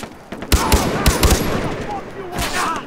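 Gunfire in the shooter game Far Cry, a burst of several rapid sharp shots and a later crack over a busy game soundscape, with voices nearby.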